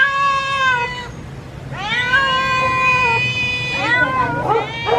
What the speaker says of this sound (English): these cats outside know they're gonna get fed. You hear them?